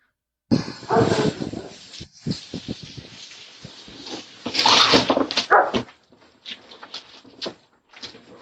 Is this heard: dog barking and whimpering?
yes